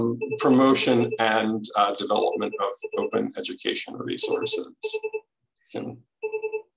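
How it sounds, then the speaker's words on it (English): A telephone rings in short, repeated electronic bursts beneath a person speaking steadily, continuing through the pauses in the talk. "pardon my phone ringing"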